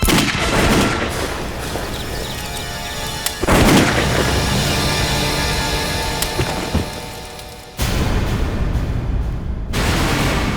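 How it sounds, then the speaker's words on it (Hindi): Heavy gunfire and booming blasts in a TV crime drama scene as shots are fired at a tank, loud bursts with abrupt breaks and dense rattling noise, no talk. "टैंक को ही गोली से उड़ा देता हूँ"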